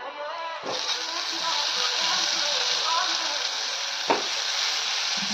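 Cut brinjal pieces hit a hot pan already toasting with coriander powder, setting off a steady close sizzle and frying crackle, with a couple of brief clatters from the pan.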